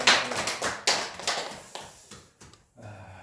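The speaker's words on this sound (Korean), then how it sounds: "우리 하나님 앞에 영광의 박수를 올려드립니다" Church congregation clapping during a New Year thanksgiving service, a dense burst of hand claps that thins out and fades over a few seconds.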